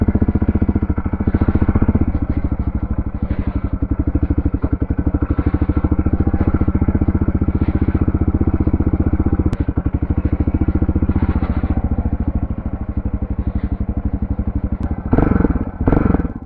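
Suzuki DR650R single-cylinder motorcycle engine running steadily close by, a loud continuous throbbing idle with dense rhythmic firing pulses, a few light clatters and a brief blip of revs near the end.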